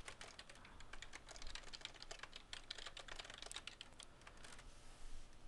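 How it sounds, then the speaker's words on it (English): Fingers type a reply on a computer keyboard in a steady stream of close, crisp key clicks with brief pauses, and no voices are heard. "I could type in my reply here"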